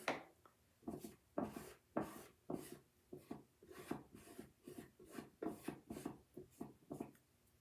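A tool spreads chalk paste across a box frame in repeated strokes, a close, rhythmic scraping and smearing sound that stops and starts, with no talking.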